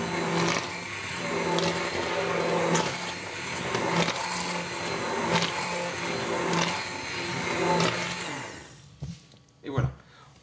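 A blender whirs loudly, puréeing carrot and coriander soup in steady bursts with rhythmic pulses, then cuts off near the end, leaving a couple of brief clunks.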